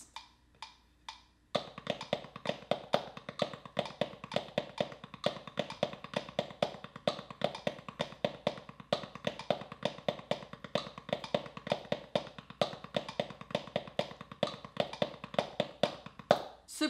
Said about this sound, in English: It's gonna work both hands, and it's made of 16th notes, and you're gonna add in a little bit of flam sauce and a little bit of double paradiddles